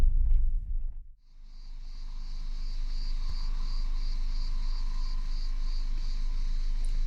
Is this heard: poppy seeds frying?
no